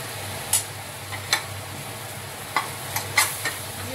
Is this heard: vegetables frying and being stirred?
yes